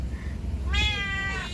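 A cat in a pet shop lets out one loud, drawn-out meow close to the microphone, following a moment of quieter background noise.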